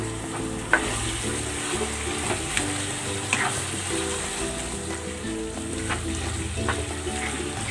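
First-press coconut cream fries and sizzles in a pan with vegetables while it is stirred, a steady close bubbling hiss broken by occasional scraping clinks of the utensil, with no one speaking.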